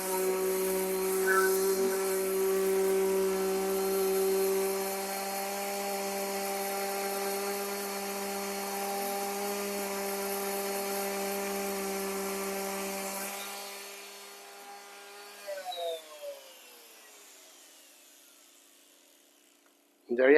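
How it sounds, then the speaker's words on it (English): A power sander smoothing a wood joint hums with a steady, whining motor drone for about thirteen seconds, then winds down and stops, followed by a few soft handling knocks. "Let's hit it with the sander one more time."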